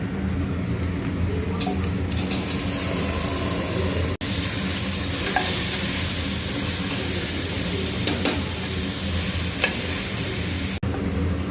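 Marinated jackfruit pieces fry in a pan with golden-browned onions, giving a loud, continuous hissing sizzle with occasional stirring scrapes and a couple of sharp knocks, and no voices.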